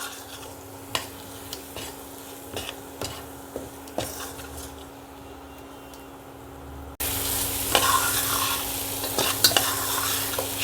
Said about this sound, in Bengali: দিয়ে দেব হলুদ এগুলো দিয়ে আবার একটু কষাবো